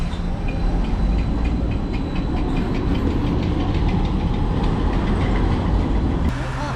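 A tram rumbles past nearby in Belgrade, Serbia, a steady low mechanical drone with rattling and faint clanks, ending with a brief squeal near the end.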